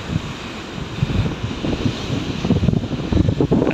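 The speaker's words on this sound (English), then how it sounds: "Wind is pumping nicely." A strong wind blows at the seashore during shark fishing, giving a steady roaring rush of wind noise against the microphone with a low surf-like rumble beneath, loud and unbroken, with no one speaking.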